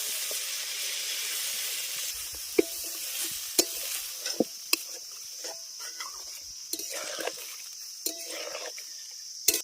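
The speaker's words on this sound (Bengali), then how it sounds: "আলুটাকে ভালো করে কষিয়ে নেওয়ার পর দিয়ে দিচ্ছি জল" Sautéed potatoes and spice paste for a katla fish curry sizzle and hiss in a pan while a spoon stirs and knocks at the pot, with several sharp scraping taps over a steady frying hiss.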